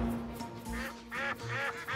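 Cartoon ducks quack on railway tracks in an animated train series, giving a few clear, nasal quacks in quick succession over a soft background.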